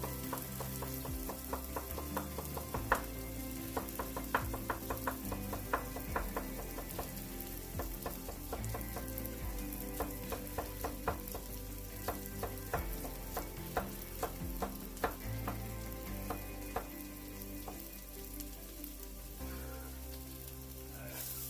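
Onions, garlic and Bolognese ingredients fry in a pan, a steady close sizzle broken by frequent sharp crackles and spatters with some stirring, continuous throughout with no talking.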